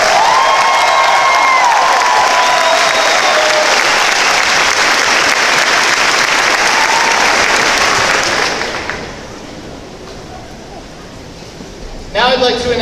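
Loud, dense applause with cheering and whistles from a high school graduation audience fills the hall for about eight seconds, then drops to a quieter murmur before a brief burst of voices near the end.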